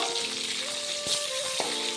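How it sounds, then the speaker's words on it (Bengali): Steady oil sizzle of chicken pieces frying for chicken roast, with a couple of soft stirring clicks and a faint tonal hum in the background. "অপর পিঠটাও একইভাবে ভেজে নেব"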